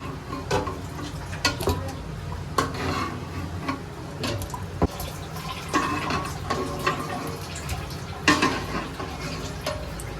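Running water splashes steadily over chopped boiled pieces being washed for haleem in a village kitchen, with continuous rinsing and intermittent clatter and knocks of the pieces and container throughout, close and fairly loud.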